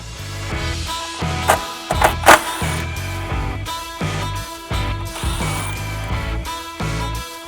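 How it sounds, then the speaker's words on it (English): Removing 10mm bolts from underneath a 2022 Toyota Tundra, with close, repeated bursts of mechanical whirring and ratcheting in an uneven rhythm and a few sharper peaks partway through. "We have four 10mm bolts that we need to take out now"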